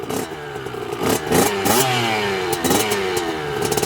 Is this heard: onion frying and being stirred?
no